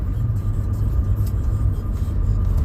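A car speed-limited to 100 km/h cruises along a new toll road between Jakarta and Bogor, giving a steady, continuous interior road rumble and tyre whir with no talking.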